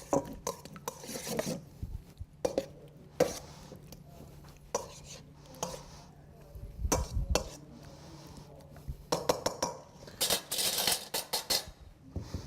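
Tri tip tossed with oil in a bowl, scraping and clinking utensils against the bowl with intermittent sharp clatters, close and moderately loud, no voice over it.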